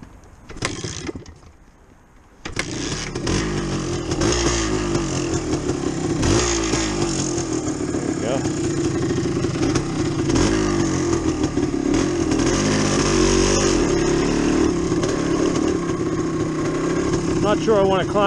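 A Yamaha DT360 dirt bike, hot after riding, kicks over and fires up, then its two-stroke engine revs and pulls along a woodland trail, loud and close with rising and falling throttle and some talk.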